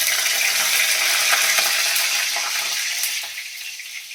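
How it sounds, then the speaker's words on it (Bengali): Dried red chili and nigella seeds spluttering loudly in hot mustard oil in a pan, a steady close crackling sizzle with scattered sharp pops that eases slightly toward the end. "চড়বার চড়বার করছে খুব বাবা"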